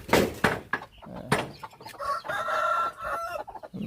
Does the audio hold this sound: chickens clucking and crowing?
yes